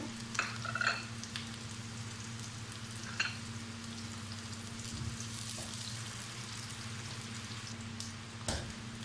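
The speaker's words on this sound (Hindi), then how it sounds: "प्याज फ्राई हो चुके हैं।" Two medium onions and green chilies frying in a pan over high flame, a soft continuous sizzle over a low steady hum, with occasional light stirring clicks, faint and close, no speech.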